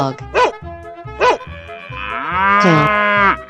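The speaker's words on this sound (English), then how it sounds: "Cow." A cow moos in a 3D animal slide video game: one long, rising, cartoonish moo follows two short barks from a dog. The sounds are loud and close, with game background music pulsing underneath.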